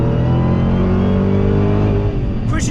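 A 2020 Dodge Challenger Hellcat Redeye with a 797 hp supercharged V8 accelerates hard down a straight, its deep engine roar loud and steady from inside the car and climbing in pitch before easing near the end.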